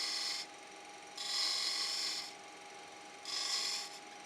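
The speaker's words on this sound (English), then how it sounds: "Just need to shave this corner off." Two rasping strokes of a blade shaving the corner of a wooden water bottle, each scrape lasting about a second, close and crisp with a faint steady hum between them.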